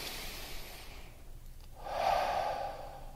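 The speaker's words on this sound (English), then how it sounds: "This simple activity of connecting with the activity of our breath" A single soft deep breath during a meditation session, a quiet airy exhale swelling and fading near the end against a faint room background.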